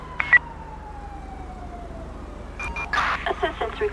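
In Grand Theft Auto 5, a distant ambulance siren wails faintly in a slow, gliding tone. Near the end, louder bursts of radio or voice chatter cut in over it.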